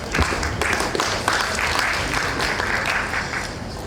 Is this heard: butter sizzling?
no